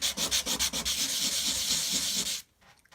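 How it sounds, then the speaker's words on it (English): P240 sandpaper sands the cut edge of a sterling silver cigarette-case disc in quick rhythmic strokes that blend into a steady close rasp, then stop abruptly near the end. "So now I just need to sand that sharp edge where we cut it in the disc cutter."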